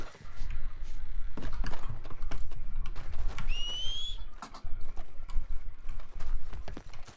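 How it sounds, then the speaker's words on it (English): Horse hooves clip-clop at a gallop across the ground in a western roleplay video game, a steady rapid drumming throughout with a brief whistle-like chirp midway and game ambience underneath. "My horse has actually gone running towards it."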